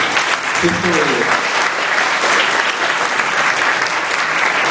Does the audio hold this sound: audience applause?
yes